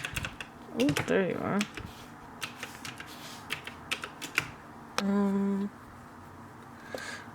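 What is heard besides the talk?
typing on a computer keyboard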